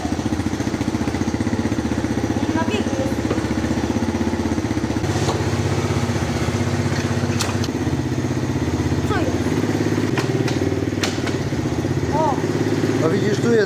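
A small quad ATV's engine runs steadily just after its first start, a close, continuous buzzy idle with slight rattle throughout, while people talk over it.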